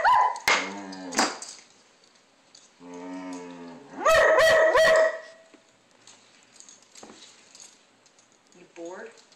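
A dog indoors barks and lets out long, wavering howl-like cries in several bursts, loud and close, with quiet gaps between them and a person talking briefly.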